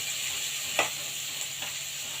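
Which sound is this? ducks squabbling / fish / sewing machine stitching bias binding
fish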